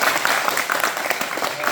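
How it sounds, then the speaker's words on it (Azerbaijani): A group of students claps steadily for a classmate's birthday, a dense continuous patter of many hands with no pauses, moderately loud and close. "Alqışlayaq."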